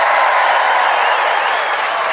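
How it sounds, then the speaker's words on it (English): Crowd at a 275mm handicap tree felling contest final cheering and applauding the winners, a dense, steady wash of clapping and voices filling the whole moment at close range. "On the count of 3, give them a cheer as we say 1, 2, 3."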